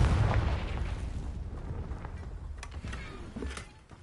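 A Confringo fire spell goes off in the video game Hogwarts Legacy, a loud booming blast that rumbles and fades, followed by a few sharper crackling pops.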